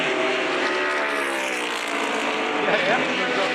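Race cars roar on the track, including Bruce Canepa's number 12 1979 Porsche 935, a loud continuous engine drone with a rising pitch, under a commentator's voice.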